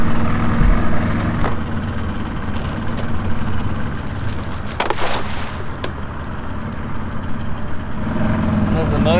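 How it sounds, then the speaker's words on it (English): A boat motor that has been having problems runs steadily during a shrimping trip. Its constant close rumble continues under people talking. "Does the motor scare the shrimp?"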